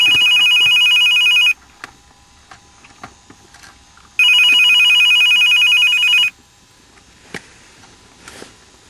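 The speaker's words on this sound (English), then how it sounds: "I just got a new cell phone, Jason." A cell phone rings loudly and close in two long electronic trilling bursts separated by a short gap, with faint clicks and room noise between.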